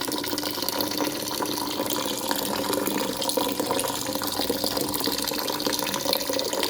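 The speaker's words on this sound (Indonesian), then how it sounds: "Air ini aku isi dengan air ini, air filter ya, air yang bersih gitu loh." Clean filtered water pours steadily into a pot, a loud, close, continuous splashing gush that holds for several seconds without interruption or speech.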